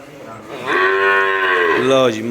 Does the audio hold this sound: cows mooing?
yes